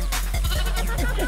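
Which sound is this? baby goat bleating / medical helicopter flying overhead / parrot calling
baby goat bleating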